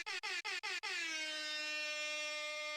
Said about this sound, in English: Give me another air horn.